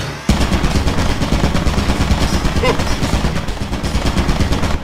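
A turret fires in the video game Lethal Company, a loud, rapid, sustained burst of machine-gun fire that starts abruptly and keeps hammering close by, with brief speech mixed in.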